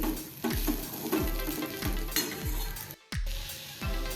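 A spoon stirs a fresh turmeric curry in a pan after curd is added, making rhythmic scraping strokes repeated roughly every half second over a soft sizzle, close and clear.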